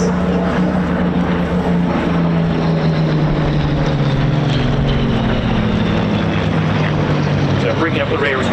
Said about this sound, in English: So bringing up the rear is the Mark 5. Slightly different to the first 2 aircraft.